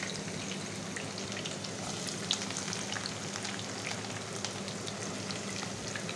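Chopped onion and garlic fry in hot oil as a tempering for dal with drumsticks, a steady even crackling sizzle with faint pops, close and fairly quiet throughout.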